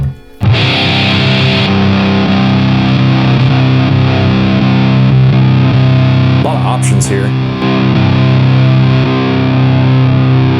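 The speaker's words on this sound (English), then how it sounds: "So I'm gonna go over into the distortion." Electric guitar through the distortion channel of a GE250 amp pedal, a loud, continuous, thick distorted tone with sustained chords, briefly overlaid by someone speaking.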